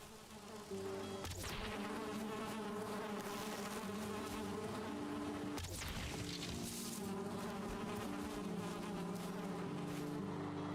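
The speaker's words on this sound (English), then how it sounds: "We've got another bee." A bee drones in Valheim with a steady, continuous buzz that runs throughout, broken by two sharp impact sounds, over quiet game ambience and with no voices.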